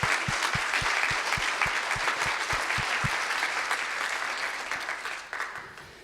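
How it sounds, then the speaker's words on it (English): An audience at the first Nanaimo town hall meeting breaks into a round of applause, with a few sharp distinct claps early on over dense clapping that gradually fades toward the end. "Let's give ourselves a round of applause."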